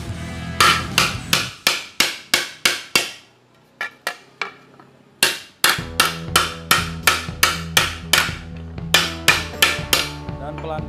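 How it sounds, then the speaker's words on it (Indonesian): Hammer blows on a 3 mm aluminium sheet being shaped into a chopper gas tank, ringing metallic strikes in a steady close rhythm, a short pause with light taps, then another fast run of blows. "Pelan-pelan aja mukulnya karena aluminium itu tidak terlalu keras banget seperti bahan besi ya guys"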